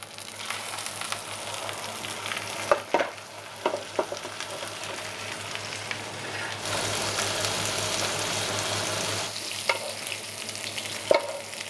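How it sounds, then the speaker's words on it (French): Fan-cut carrots and a veal ballotine sizzle in melted butter in a pan, a steady loud frying hiss with occasional clatters of utensils, growing stronger midway as the food is basted. "Une fois notre beurre fondu, on prend nos carottes fan, on les plonge dans notre beurre."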